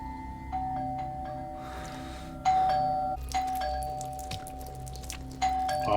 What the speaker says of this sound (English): Awfully persistent on the doorbell.